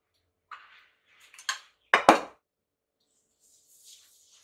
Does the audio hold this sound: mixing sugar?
yes